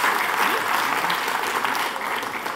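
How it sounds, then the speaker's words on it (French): Audience applause at a Swiss science-communication final's prize ceremony, a dense, steady wash of many hands clapping that holds loud and even throughout. "Des applaudissements, s'il vous plaît."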